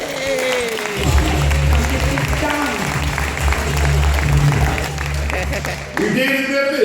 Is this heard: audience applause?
yes